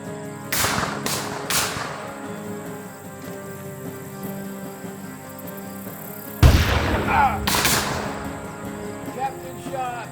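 Scattered gunshots in a battle at a frontier fort: a few sharp reports early on, then a heavier close burst of fire with a loud impact, under a steady background hum.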